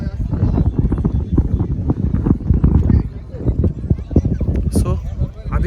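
A horse's hooves clip-clop steadily at Mahabaleshwar, the quick irregular footfalls running unbroken under loud excited talk and some wind buffeting.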